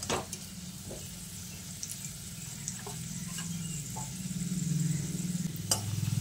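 Fried potatoes lifted out of hot oil, a steady low sizzle with occasional clinks of a slotted spoon, growing slightly louder toward the end.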